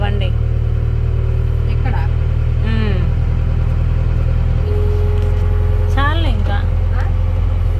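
A JCB backhoe loader's engine runs at a steady low drone while a woman drives it, with voices talking over the machine throughout.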